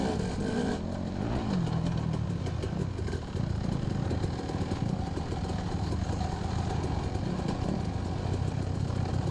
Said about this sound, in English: 4-stroke thunder behind me